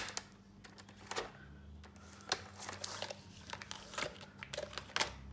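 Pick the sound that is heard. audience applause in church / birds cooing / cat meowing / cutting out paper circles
cutting out paper circles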